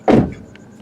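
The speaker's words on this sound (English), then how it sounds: "Now the doors are closed" A single solid thud as a car door of a 2022 Toyota Corolla Apex shuts, close and loud, followed by a short quiet tail.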